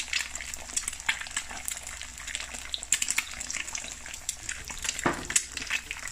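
Two eggs fry in a pan with a busy, crackling spatter of small pops and hisses, close and fairly loud throughout.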